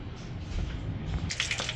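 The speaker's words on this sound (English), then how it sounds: "Get all that air out of that sink faucet." A bathroom sink faucet on an American Standard Maven fixture sputters and spits as trapped air is purged from the supply line, a low gurgling rush that bursts into sharper hissing splashes near the end.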